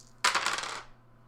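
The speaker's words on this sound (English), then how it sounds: "you can actually see my dice rolls so you know I'm not fudging them" Dice dropped and rolling on a table, a sharp rattling clatter of several quick bounces that settles and fades within about half a second, close and alone.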